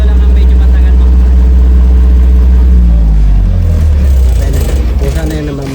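A SHARKPRO 25ES SMARTGEN diesel generator runs with a loud, deep, droning engine hum that drops in pitch and begins to wind down as it shuts down automatically, with a voice talking over it.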